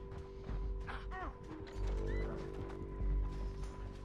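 In Red Dead Redemption 2, a horse clip-clops with steady hoof falls and gives a short whinny, over faint mechanical clicks, close and moderately loud, with no talking.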